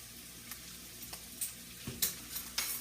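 Spicy jambalaya ingredients with cayenne sizzle in a pan, close and continuous. A spoon stirs through them with several scraping knocks and clicks.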